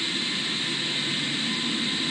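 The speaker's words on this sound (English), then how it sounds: "our plane will be taking off now" A jet airliner roars through its takeoff in Microsoft Flight Simulator 2020, a steady broadband engine rush with a high whine on top, loud and unchanging throughout.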